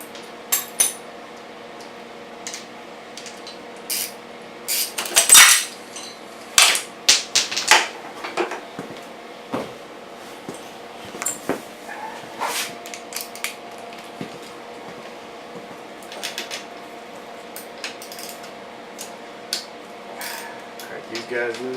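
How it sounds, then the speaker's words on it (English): Metal clicks and scrapes of a wrench working on the cylinder head bolts of a Kawasaki KX125 two-stroke engine, scattered irregular taps and clanks at close range over a quiet workshop background. "now we're going to loosen the head bolts."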